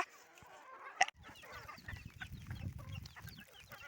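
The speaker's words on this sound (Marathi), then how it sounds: "कोंबड्या माझ्या अवतल भोवतल फिरत आहेत" Chickens wander about on a farm after heavy overnight rain, clucking softly and intermittently at close range, with a sharp knock near the start and a faint low rustle underneath.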